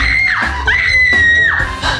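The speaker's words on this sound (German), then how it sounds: "Wenn deine Schwester eigentlich nur einmal schreien soll, aber sie direkt komplett eskaliert." A girl screams loudly and at length, with a sustained piercing high pitch broken by short breaths, close to the microphone.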